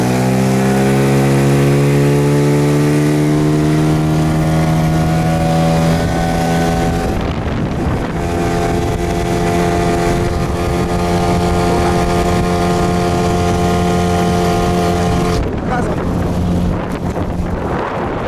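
A 9.9 horsepower Yamaha or Suzuki outboard motor runs loud and close on a small boat, holding a steady droning whine that shifts pitch twice as the throttle changes.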